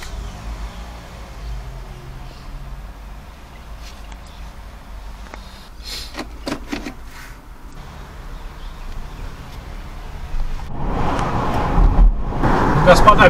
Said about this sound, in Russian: заводим и поехали.